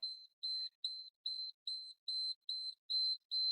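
An electromagnetic radiation detector gives a rapid series of high, evenly spaced beeps, about nine in a row, clear and steady against silence.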